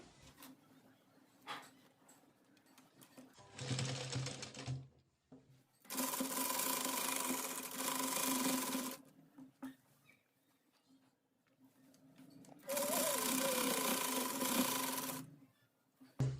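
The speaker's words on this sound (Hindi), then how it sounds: "इसी तरह से हम पूरे बेल्ट पे सिलाई लगा लेंगे।" Sewing machine stitching a salwar belt, three separate bursts of steady whirring stitching, the last two longer, with quiet pauses between them.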